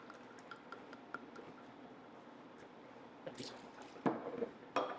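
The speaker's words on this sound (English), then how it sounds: "We're going to add 2 ounces of bourbon" Two ounces of bourbon pour into a mint julep cup already holding simple syrup, a soft trickling and dripping followed by a couple of louder splashy bursts near the end, close and quiet with no talking.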